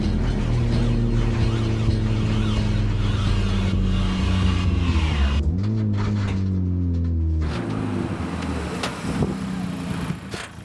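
A track car's engine drones loudly and steadily up close, its pitch shifting as the car brakes and moves sharply, then dipping and rising again as it accelerates.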